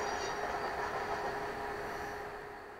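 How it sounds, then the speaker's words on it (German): Berlin S-Bahn train standing at the Erkner terminus: a steady electric hum and rumble, moderately close, slowly fading toward the end, with no talk. "Genau, dieser Zug endet hier."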